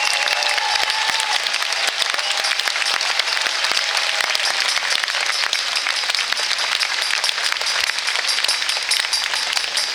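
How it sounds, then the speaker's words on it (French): Loud, sustained applause from a large crowd at an August 2021 rally in France, steady clapping filling the whole stretch without letting up. "vous pouvez les applaudir fortement, chaleureusement"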